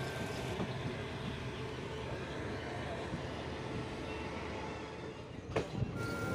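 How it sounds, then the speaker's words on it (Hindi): A train rolls through the Indara Junction yard with a steady low rumble and hiss of wheels on rail, ending in a couple of louder clanks near the end. "अभी हमारी ट्रेन इंदारा जंक्शन के यार्ड में है"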